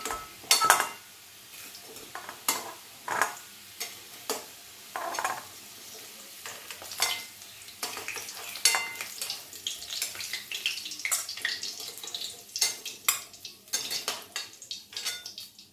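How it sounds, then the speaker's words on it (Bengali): Fried potatoes are lifted out of hot oil with a spatula, with repeated sharp metal clinks and scrapes against the pan over a soft continuous sizzle. "আলুটা ভাজা হয়ে গেছে। এবার তুলে নিচ্ছি।"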